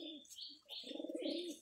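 Domestic pigeons cooing and calling on a rooftop as another pigeon arrives, a couple of close soft coos followed by a longer throaty rolling coo.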